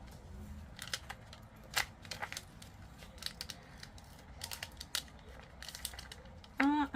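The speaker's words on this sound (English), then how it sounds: "peel this backing off just a bit" Adhesive backing peeled from scrapbook paper, giving soft crinkling rustles and short tearing crackles in scattered bursts, close and fairly quiet, with a sharper crackle near the end.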